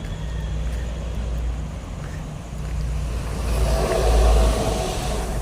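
Traffic along Sumulong Highway passes as a steady roadside rumble with wind-like hiss, swelling louder as a vehicle approaches and goes by near the end.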